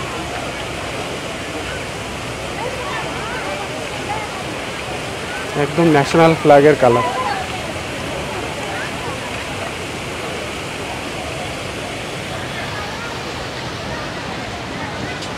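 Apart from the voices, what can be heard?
water fountain splashing at India Gate at night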